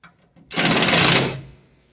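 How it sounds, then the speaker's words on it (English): A power drill whirs in a single short burst, loud and close, while tensioning a headlight spring on a 1965 Ford Mustang. "I'm just going to take this drill"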